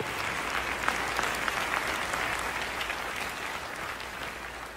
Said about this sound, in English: Can somebody just give him a round of applause for that?